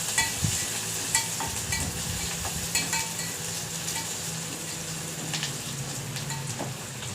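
Onion, crushed garlic and cumin frying in hot oil with a pinch of turmeric, giving a steady close sizzle with scattered pops and crackles throughout, no talk.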